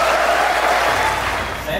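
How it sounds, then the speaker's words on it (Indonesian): A crowd applauds at an anniversary event with a team race, a dense, continuous burst of clapping heard close and fairly loud, easing slightly toward the end. "Mari kita tepuk tangan buat semuanya."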